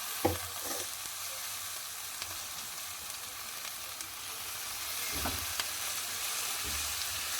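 Fenugreek (methi) leaves are stir-fried in a pan for methi paratha, giving a steady close sizzle broken by a few scraping stirs of the spatula.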